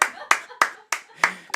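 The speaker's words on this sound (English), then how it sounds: "Loud applause in the coverage booth there" Hands clap in sharp bursts in a tournament coverage booth during a Flesh and Blood card game quarterfinal, about six quick close claps spaced evenly over a second and a half.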